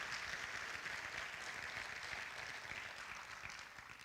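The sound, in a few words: audience applause at awards ceremony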